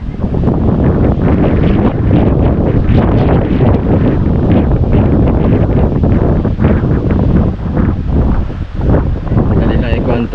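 Strong wind buffets the microphone outdoors beside a boat being painted yellow, a loud, continuous roaring rumble with gusty swells and no breaks.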